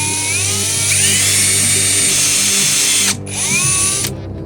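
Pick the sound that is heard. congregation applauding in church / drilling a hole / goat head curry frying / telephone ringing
drilling a hole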